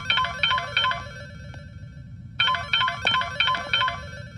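Electronic phone ringtone in an Indian film scene, a repeating melodic burst pattern that plays several times, pauses briefly, then resumes, loud and close with no talk over it.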